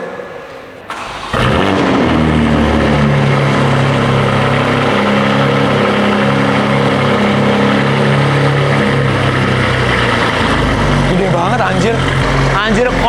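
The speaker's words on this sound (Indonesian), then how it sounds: "Suara knalpotnya guys, kita nyalain sekarang ya." A tuned 550 hp car engine starts with a quick crank, then its exhaust settles into a loud, steady rumbling idle close by that continues for over ten seconds, with a voice briefly audible over it.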